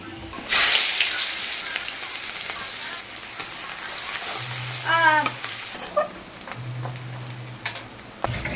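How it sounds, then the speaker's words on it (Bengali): Rohu fish in poppy seed paste sizzles in a wok, a loud hiss bursting on as it goes in and settling to steady frying, with stirring scrapes and faint background hums and tones. "দিকে কড়াটাতে আমি রুই পোস্তটা বসিয়ে দিচ্ছি"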